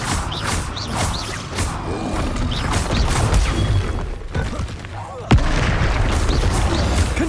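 The Confringo blasting spell goes off in Hogwarts Legacy: booming explosive blasts and rumbling impacts fill a dense combat soundscape, with one sharp crack standing out partway through, under intermittent speech.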